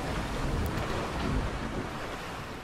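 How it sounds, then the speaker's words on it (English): A log flume boat in a Planet Coaster theme park splashes down into the water. The wash of water is broad, rushing and steady, close and fairly loud, with no talk over it. "Splash!"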